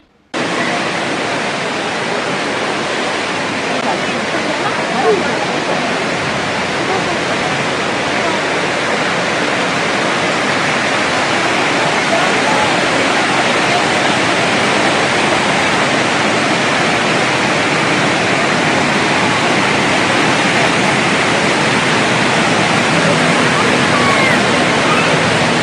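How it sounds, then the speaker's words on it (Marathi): Indoor waterfall at Singapore Changi Airport pours with a loud, steady broadband rush of falling water, close and unbroken throughout. "पाण्याचा आवाज मनाला शांतता देऊन जातो"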